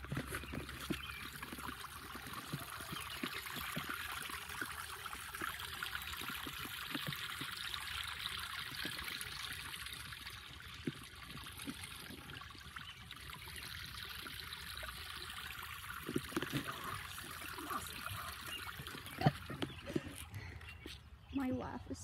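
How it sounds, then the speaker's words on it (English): Water trickles gently through a small backyard stream, a faint continuous babble heard from nearby under light outdoor ambience, with someone occasionally talking. "see if you can hear the water."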